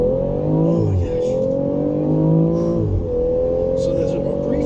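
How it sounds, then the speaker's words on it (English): Turbocharged six-cylinder engine of a 2018 BMW X3 M40i pulling hard from a rolling start, loud and close with rising pitch sweeps, a brief dip as a gear shifts near one second and again near three, then climbing again. "there's a brief moment of spool up for the turbos, and then the engine comes on strong"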